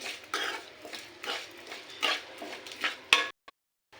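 Raw banana curry with onions and masala being stirred in a pan, a series of scraping, shuffling strokes close up, ending with a sharp clack and then sudden silence.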